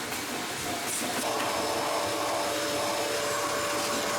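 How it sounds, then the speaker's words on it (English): A vacuum cleaner runs steadily while sucking lint out of a clothes dryer's housing, a close, constant whooshing drone with a faint whine that shifts slightly as the nozzle moves, with no talking. "we can vacuum out any lint that's trapped inside"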